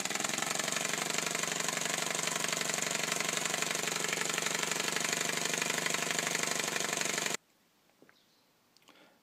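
A 3D-printed two-cylinder compressed-air engine runs with a fast, loud mechanical chatter and hiss for about seven seconds, then stops abruptly, leaving near silence with a few faint clicks.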